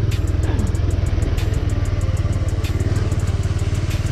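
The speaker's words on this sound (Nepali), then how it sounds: "अनि यस्तो बाटोमा हामी बाइक कुदाउँछौँ" A motorcycle rides a rough road between Damak and Pathri, its engine putting in a fast, steady close-up rhythm with light rattling and clatter over the bumps.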